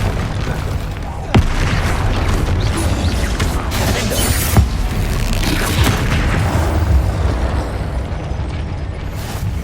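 Spell explosions from Bombarda and Confringo in the Hogwarts Legacy video game: loud, steady rumbling blasts with a sharp boom near 1.4 seconds and another near 4.6 seconds, under clattering, creaking effects.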